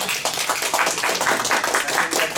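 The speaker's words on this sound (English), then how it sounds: "let's come together and give a big applause to Professor Sui for his great talk" Audience applause after an academic lecture on exclusive rights in big data, brisk continuous clapping from a room of listeners, steady and fairly loud throughout.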